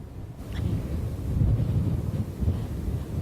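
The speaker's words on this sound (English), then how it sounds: "it is wet, it is windy, and the waves are wicked here in Brigantine" Strong hurricane wind buffets the microphone on a rainy beach in Brigantine, New Jersey, a steady, low roaring rush, with gusts swelling and easing throughout.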